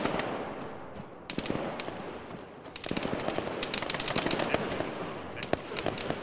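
Rapid bursts of machine gun fire in the video game Arma 3 crackle in the distance amid continuous noisy background din, with sharp repeated shots clustering over several seconds.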